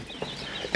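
Quail hatchlings in a homemade brooder give faint, high chirps over a soft background hiss, ending in a brief louder burst.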